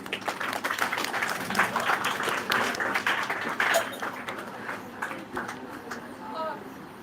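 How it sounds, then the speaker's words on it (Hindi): An audience applauds as an engineer is called onto the stage at a school award event, with uneven clapping that swells and then thins out, mixed with voices. "तालियों"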